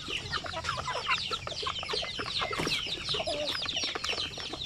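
Native chickens on a farm cluck and chatter continuously, several birds calling over one another close by in a busy, overlapping chorus with no pauses.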